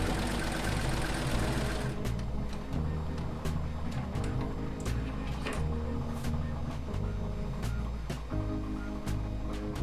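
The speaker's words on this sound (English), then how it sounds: "I'm gonna sew it up a little bit more." A sewing machine stitches the hem of a tank top during an alteration, running in steady bursts of rapid mechanical whirring with short pauses and clicks between runs, close and clear.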